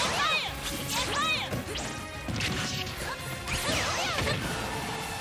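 Shuriken sound effects in the Super Smash Bros fighting game, a busy stream of whooshing, swishing throws and crashing hits layered over game sounds with no pause.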